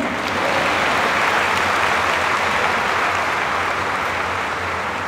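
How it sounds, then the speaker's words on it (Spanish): A church congregation at a Mass for the Virgin of Guadalupe breaks into sustained applause, a loud, thick and even roar of many hands clapping with no pause. "Un aplauso, amén"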